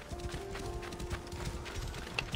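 A horse gallops in the Assassin's Creed Origins video game, with steady, rhythmic hoofbeats at close range and a faint whinny-like tone running underneath throughout.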